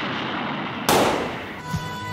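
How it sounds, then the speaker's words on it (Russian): A single gunshot closes the crime TV series Brigada, playing under the end credits: one sharp, loud report that cuts in over a quieter background score, followed by a lingering echo and the music carrying on. "А затем уже под титры слышим звук одиночного выстрела."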